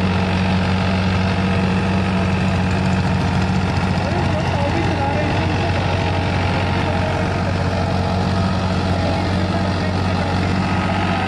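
A New Holland 3600 tractor engine runs steadily under load with a rotavator, a loud, continuous low diesel drone with no voices over it.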